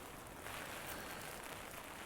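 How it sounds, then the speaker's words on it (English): Rain and wind buffeting a tent during a storm, a dense, steady patter and hiss filling the whole moment, close and continuous. "I'm sure you can hear the wind and some of the rain"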